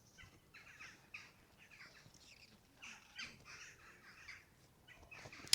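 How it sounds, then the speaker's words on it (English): Crows caw among other birds calling outdoors at a castle in Haapsalu, Estonia, a series of repeated harsh calls at moderate distance with no talking. "I don't know if the microphone is picking up all the bird calling at the moment"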